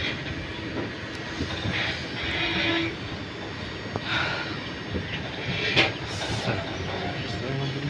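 The Palakkad Super Fast Express arrives at a station, a loud, continuous rail rumble with wheel clatter and scattered squeals and clanks throughout.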